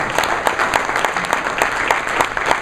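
Applause at an awards luncheon, close and fairly loud, with many distinct claps rippling in an uneven rhythm over a continuous crowd wash.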